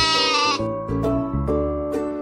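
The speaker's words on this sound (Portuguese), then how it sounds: "Por acaso é minha cabra." A goat's loud, wavering bleat with strong harmonics, followed by a few shorter bleating calls, close and alone.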